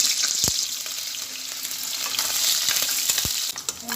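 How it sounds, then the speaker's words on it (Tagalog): A hotdog fries in a pan with a steady, dense sizzle, close and fairly loud, broken by a couple of sharp clicks from the pan or utensil; no one speaks. "Prito muna natin 'tong hotdog."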